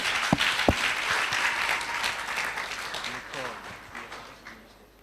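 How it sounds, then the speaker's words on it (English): An audience at a film awards gala in Northern Uganda claps steadily, a broad wash of applause with a couple of sharp thuds early, tapering off toward the end as talk carries underneath. "A big hand clap,"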